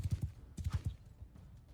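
Horse hooves in Mount & Blade 2 Bannerlord during a battle, a quick run of clip-clop beats in two bursts, fairly close and moderately loud, then fading, with no clear neigh.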